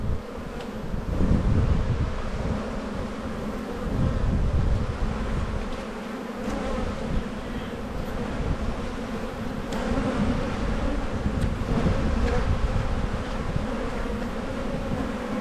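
Honeybees buzz at an open spring hive, a steady close hum of many wings with individual bees droning louder as they pass near, slight wind noise beneath.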